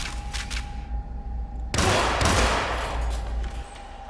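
Gunfire in the stealth video game Hitman (2016), Hokkaido episode: a sudden loud burst of shots erupts after a steady tonal hum, then rolls on as dense, sustained noise for a couple of seconds with no talking.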